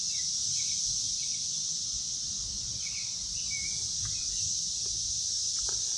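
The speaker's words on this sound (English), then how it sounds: "it's these cicadas. They are dominating everything right now." A steady, high-pitched cicada buzz drones without a break by a creek, loud and unchanging, with faint chirps and rustling underneath.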